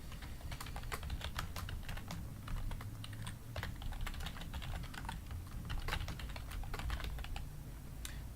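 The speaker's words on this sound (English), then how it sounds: "You see, that's a lot of typing" Rapid computer keyboard typing as C++ code is entered, a continuous run of crisp, close key clicks in uneven bursts with no voices.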